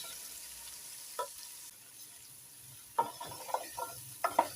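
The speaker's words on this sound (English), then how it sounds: "We stir this because we don't want the onion to continue burning." Leek, onion and butternut squash being stirred in a frying pan with a soft sizzle underneath, with a few sharp scraping stirs near the start and a cluster of louder utensil scrapes toward the end.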